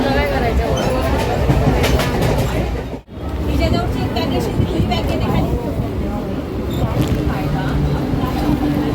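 A train rumbles steadily at Dadar railway station, with a crowd murmuring and people talking throughout, and a brief dropout partway through.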